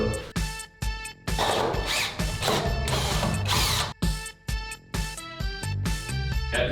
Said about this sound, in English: I need to drill another one in